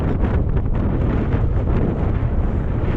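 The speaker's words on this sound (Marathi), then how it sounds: "आणि वारा बघू शकता किती आला वाराचा आवाज येतच असेल" Strong wind at sea buffets the microphone on a fishing boat out in stormy weather, a loud continuous roar and rumble with gusting texture and no talk throughout.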